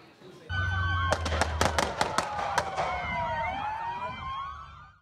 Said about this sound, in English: caught the moment the shots were fired